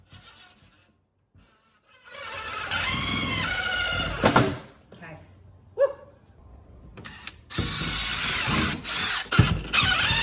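A power drill fitted with a 1/8 inch bit starts holes while a stair rail is mounted for a garage step. The motor whines up and down in several bursts, separated by pauses and handling clicks.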